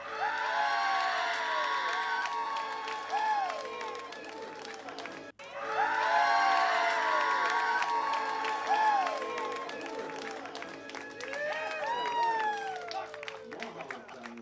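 Live concert crowd cheering, whooping and clapping in a loud, dense roar that swells, breaks off for an instant, then returns with scattered shouts before fading slightly.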